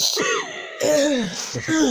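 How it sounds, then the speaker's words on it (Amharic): Someone nearby clears their throat in a few short, rasping bursts with brief pauses between them. "ጉሮሮውን እየጠረክ ነው"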